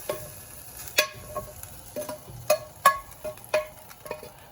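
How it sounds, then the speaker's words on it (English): Ground beef and Italian sausage frying in a pot, with a soft sizzle under a string of distinct spoon scrapes and knocks against the pot, close and moderately loud, and no talking. "So I am going to put the beef in here, and I am going to put the Italian sausage in there as well."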